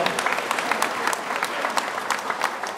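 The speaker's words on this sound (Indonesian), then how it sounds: "Sampai lupa ngasih tepuk tangan untuk Romo Ludo." A church congregation at a first Mass claps for a priest, a brief burst of close, steady applause with some sharp individual claps standing out.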